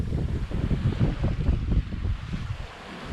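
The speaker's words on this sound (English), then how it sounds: "I thought the wind was going to be a little too light for us to sail this morning, but it is really, really good right now." Strong wind roars across a microphone aboard a sailboat under way near the Spanish Virgin Islands, with rushing water and surf beneath, steady and loud with gusty swells and no engine noise.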